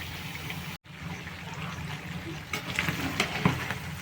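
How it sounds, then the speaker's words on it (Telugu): Goat tripe (boti) frying in a pan, a steady close sizzle and crackle with a few sharper pops near the end. "బోటి ఫ్రై అవుతుందండి"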